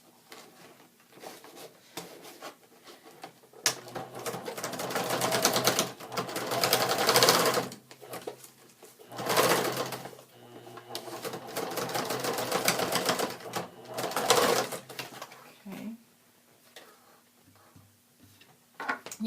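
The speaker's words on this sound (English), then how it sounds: "You can hear that the machine is working harder to get through this thick fabric." A sewing machine stitches through thick fabric on a fabric collage pencil bag, running in several strained bursts of rapid mechanical rattling with short pauses between, fairly close and moderately loud.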